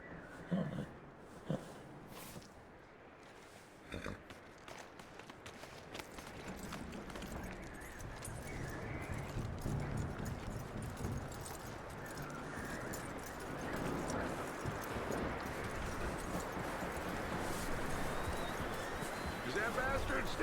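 Horse hooves clip-clop steadily through a Red Dead Redemption II blizzard, mixed with snorts and constant howling storm wind, with a voice talking over the scene.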